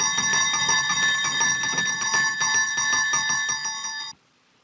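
A bell rings continuously with rapid, bright metallic strokes in the 1933 horror film The Vampire Bat, loud and steady for about four seconds before cutting off abruptly into near silence.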